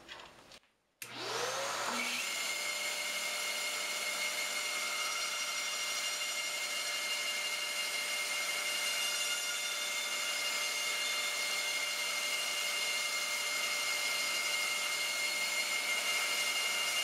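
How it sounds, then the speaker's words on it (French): A band saw runs steadily while cutting a small wooden handle for a gouge holder in a woodshop: a brief thump, then a sustained whining tone that holds nearly unchanged and loud, with no talking. "Je me taille une poignée à la scie à ruban."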